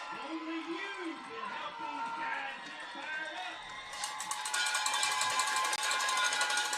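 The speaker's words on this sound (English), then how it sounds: "Well, the crowd's gotten back into it." The crowd at a Harrisburg vs. Piggott football game swells into a broad, sustained roar behind commentators who keep talking throughout.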